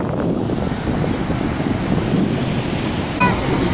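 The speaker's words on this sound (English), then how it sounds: "Whoa, look at that waterfall. It's so powerful. The splashing water creates a fine mist." Powerful splashing water at Niagara Falls, a continuous loud broadband roar and rush with wind buffeting, steady throughout with a brief bump near the end, no talk.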